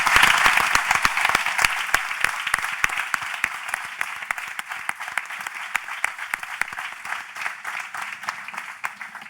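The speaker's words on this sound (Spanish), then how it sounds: "Un fuerte aplauso." Dense, even applause from a conference audience at a cystic fibrosis congress, strong at first and gradually easing into sparser, quieter clapping over nine seconds.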